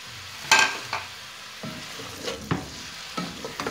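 Eggplant (baingan) sizzles in a hot pan while a spatula stirs it, scraping the metal in several distinct strokes over a steady frying hiss, close and clear with no talking.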